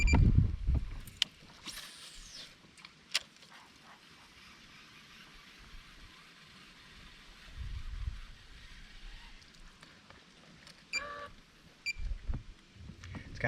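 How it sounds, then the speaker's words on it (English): An electric trolling motor pushes a small fishing boat across windy water, a quiet low hum mixed with wind, soft water noise and occasional knocks against the hull, with no talking. "I hate that I'm having to use this trolling motor so much"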